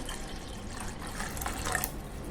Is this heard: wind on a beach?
no